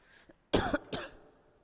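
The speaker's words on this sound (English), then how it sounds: "Please excuse the cough and the wheezing." A single close cough, a harsh burst followed by a second smaller one, in an otherwise quiet room.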